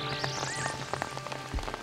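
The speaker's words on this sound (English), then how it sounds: "It had started raining again" Rain falls softly over a small hill village in Sikkim, a faint, steady patter over a brief stretch, with some other faint tones in the background.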